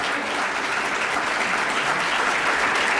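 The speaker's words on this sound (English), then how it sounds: "please give a round of applause for Mary Ann Webster" Audience applause at an Earth Day climate action event, a steady, even wash of many hands clapping at moderate volume with no talk over it.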